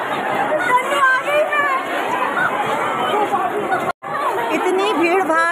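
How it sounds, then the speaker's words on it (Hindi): A crowded second-class coach on a Mumbai local train fills with continuous close babble from many passengers, broken by a brief dropout of near silence before the chatter resumes. "आइए आपको लोकल की भीड़ दिखाते हैं, ये सेकेंड क्लास की भीड़ देखिए।"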